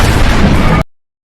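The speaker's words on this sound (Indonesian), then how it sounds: "Mereka terus tembak-tembakan tuh." A short burst of loud, booming gunfire in a crime thriller film scene, cutting off abruptly into silence.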